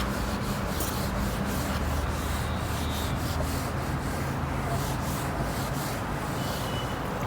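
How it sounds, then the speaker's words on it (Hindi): An eraser scrubs across a teaching board in quick back-and-forth strokes, a continuous close rasping rub that keeps going without pause and with no voice over it. "रब करता हूं।"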